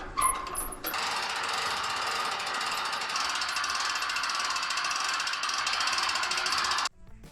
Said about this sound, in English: My pulley's in place. No scaffolding needed. Let's wind up these last bits of steel,